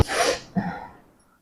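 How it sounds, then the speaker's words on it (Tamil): A single loud, close sneeze from a person during a pepper and onion sneezing challenge, a sharp burst followed by a brief second gasp-like puff that fades quickly. "தும்மல் வந்துருச்சு."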